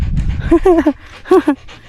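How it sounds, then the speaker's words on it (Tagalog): A dog pants heavily after a walk on a farm, close up, with quick rhythmic breaths and a few soft whimpering whines. "Hingal ka ngayon."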